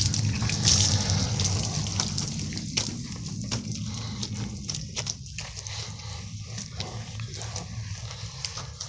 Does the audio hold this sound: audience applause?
no